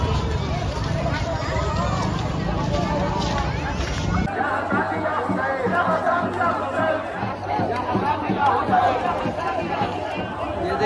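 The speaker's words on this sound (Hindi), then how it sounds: "ये जितने भीड़ देख रहे हैं सारा का सारा, सब चांदपट्टी गांव के जुलूस है" A large crowd from Chandpatti village at a Muharram procession fills the air with steady chatter and babble, with someone talking close over the general hubbub.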